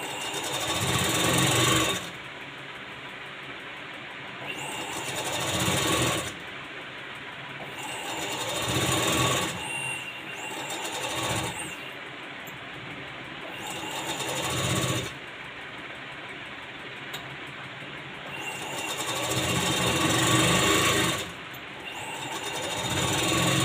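A sewing machine stitches a designer blouse in repeated loud, whirring runs of several seconds each, stopping and restarting between seams, close up with no talking.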